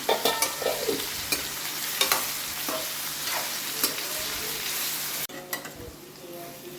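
Pumpkin curry sizzles steadily in a hot pan while a spoon stirs it, scraping and clinking in scattered close strokes over the continuous frying hiss.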